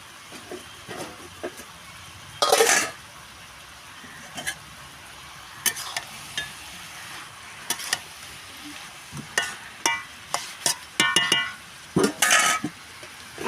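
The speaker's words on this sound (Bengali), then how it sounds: "এখন দিয়ে দেব মাছের মাথা" Cabbage frying in a pan gives a low sizzle under scattered metallic clinks, scrapes and stirring knocks as a fish head goes in, with a few louder clattering bursts close by.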